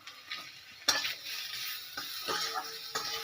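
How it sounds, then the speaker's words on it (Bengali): A spoon stirs a yogurt and fish mixture with salt for doi bhetki, soft scraping and clinking against the bowl with a few sharper knocks, quiet and close. "নুন দিয়ে এটা নাড়াচাড়া করে"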